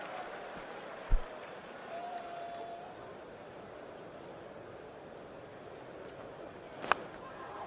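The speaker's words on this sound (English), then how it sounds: "To an enormous cheer from this crowd at Lord's" A large cricket crowd at Lord's during an England versus Pakistan Test roars in a broad, sustained wash of cheering and applause, with a couple of sharp louder bursts standing out from the continuous distant noise.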